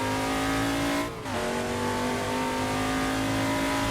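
An XA Falcon racing car accelerating hard out of Forest Elbow at Bathurst, heard from inside: a loud, sustained engine drone climbing in pitch, with a brief dip around a gear change before it pulls on strongly.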